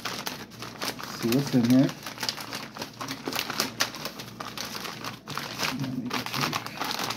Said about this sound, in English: So I'm just going to open up this knife here and cut this open.